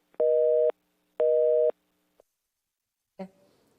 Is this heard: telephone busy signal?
yes